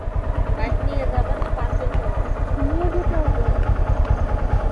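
A Honda motorcycle engine chugs steadily close by, a loud rapid low-pitched pulsing throughout, with people talking over it.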